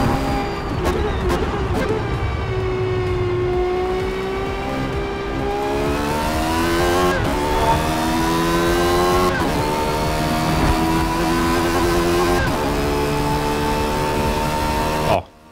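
Lamborghini Murcielago engine in Forza Motorsport on the Nordschleife, a loud high-revving V12 howl that climbs through the gears with brief shift dips, steady and close for the whole stretch, with a little talk underneath.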